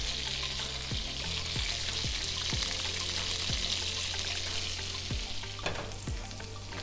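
Torn sage leaves sizzle steadily in foaming butter for a brown butter sauce, a constant bright crackle with small occasional splutters, close and moderately loud.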